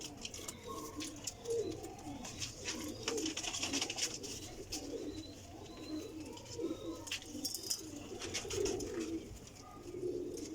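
Golden kamagar pigeons cooing repeatedly in soft, throaty phrases, close by, with faint chirps and light background noise and no talk.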